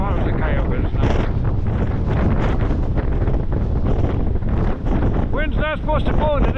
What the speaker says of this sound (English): Wind's not supposed to blow today, just tomorrow.